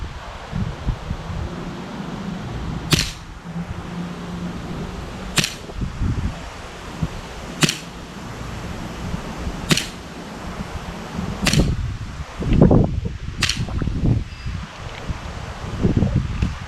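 A 1911 airsoft pistol fires .25 BBs outdoors in single sharp cracks, six shots spaced about two seconds apart, each followed by faint impact rustles against light wind noise.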